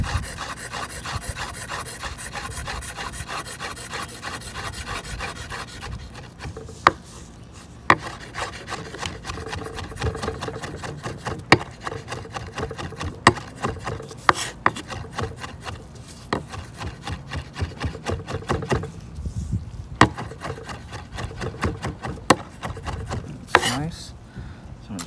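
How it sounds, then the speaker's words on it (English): Smoked chicken, cherry-wood smoked, rough-chopped with a knife on a board: a steady run of close, crisp blade strikes, brisk and rhythmic, with a few louder knocks, no talking. "I'm gonna give them a little rough chop"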